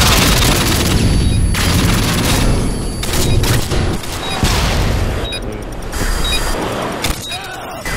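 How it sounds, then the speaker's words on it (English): Game combat on a high-rise map in a competitive match brings a loud, dense barrage of gunfire with booming blasts that could include a stun grenade going off, all close and continuous over eight seconds. "Throwing a stun grenade!"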